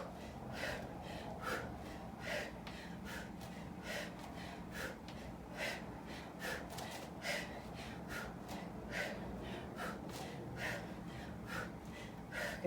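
Heavy, rhythmic gasping breaths from a person doing high pulls in a workout, repeating roughly every half second to second, close and sustained over a low background hum.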